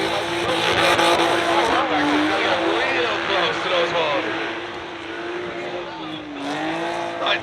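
A BMW drift car runs a competition course at Orlando Speedworld, its engine howling high and loud with rising and falling revs and tire squeal. It fades slightly midway and then surges again, close to the listener.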